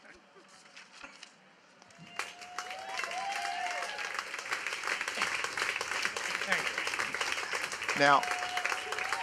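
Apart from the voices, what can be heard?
audience applause at expo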